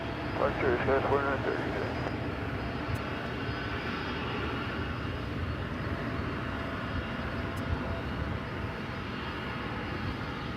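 A Qantas jet airliner at DFW airport gives off a steady, broad engine roar in the distance. It holds at a constant level for the whole stretch, with faint talk near the start.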